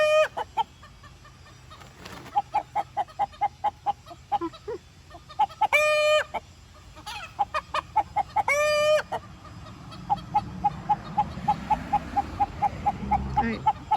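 Buff hens in a flock cluck in repeated short bursts, with several louder squawking calls breaking through and a steady pulsing cluck running through the rest at close range.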